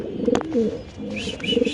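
Large pigeons cooing at a pigeon farm, a few soft low throaty coos close by with a faint chirp, heard alone without speech.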